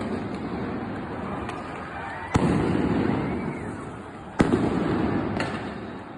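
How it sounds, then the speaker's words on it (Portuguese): Police firing rubber bullets and tear gas grenades at protesters in a street, two or three sharp bangs at a distance over a continuous crowd and street roar, with no clear talking. "Os policiais, então, começaram a avançar em direção aos manifestantes, atirando balas de borracha e bombas de gás lacrimogêneo."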